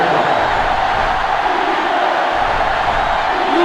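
Sellout stadium crowd in the NCAA 06 college football video game, Washington at Oregon: a loud, continuous roar of cheering fans, dense and steady throughout with no other sounds breaking through.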